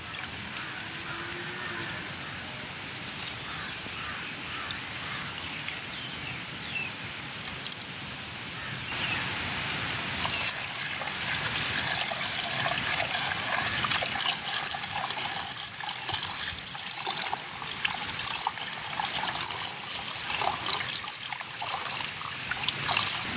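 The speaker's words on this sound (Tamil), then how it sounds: "இன்னொருக்கா நாங்கள் கழுவி எடுப்போம்" Squid being rinsed in water in a village kitchen gives a continuous trickle and splash, which grows louder and busier about halfway through as the water runs harder.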